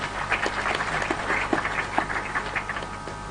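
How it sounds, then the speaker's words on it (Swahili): An audience at a Kitui County public announcement event claps for the chair: a steady, dense round of applause of even loudness with scattered sharper individual claps throughout. "Kwanza pigieni chair makofi tena."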